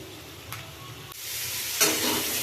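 Boiled potatoes frying in a little oil in a pan give off a steady close sizzle that swells into brighter, louder hissing bursts partway through.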